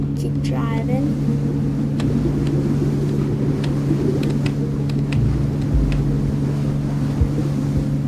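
Duckmarine amphibious vehicle in Shark Bite 2 driving through water, a steady droning engine hum with watery wash running continuously, with voices talking over it at times.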